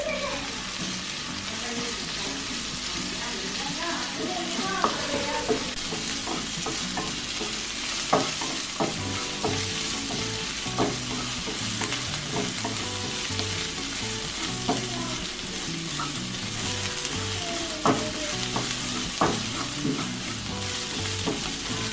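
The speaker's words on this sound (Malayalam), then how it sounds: "അതിനുശേഷം ചതച്ച് വച്ച ചുവന്നുള്ളിയും വെളുത്തുള്ളിയും വേപ്പിലയും ഇതിലേക്ക് ഇട്ട് കൊടുക്കുക. അതൊരു യെല്ലോ ബ്രൗൺ ആവണ വരെ നന്നായി വഴറ്റി കൊടുക്കുക." Crushed shallots, garlic and curry leaves sauté in coconut oil for a Kerala duck roast, a constant close sizzle with frequent scraping and tapping stirs.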